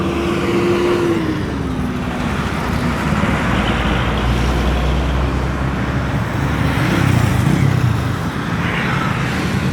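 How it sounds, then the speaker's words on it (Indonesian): Heavy trucks queuing and unloading fill soil at a flyover construction site beside a national highway, giving a steady loud engine rumble with passing traffic noise throughout. "cukup banyak sekali truk yang antri membongkar timbunan tanah gunung di sebelah dari jalan lintas nasional"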